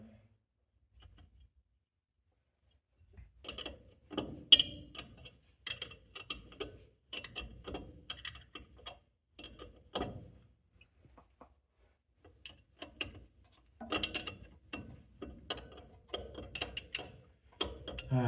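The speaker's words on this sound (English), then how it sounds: "I'm just having to wrench each and every one of them down by hand." A hand ratchet wrench tightens nuts one by one on a 1971 Ford F250 Highboy truck, in sparse bursts of quick metallic clicking separated by pauses, fairly close and quiet.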